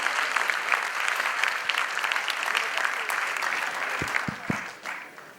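Applause from a debate competition audience fills the room, many hands clapping steadily, with a few sharper close claps near the end as it begins to thin.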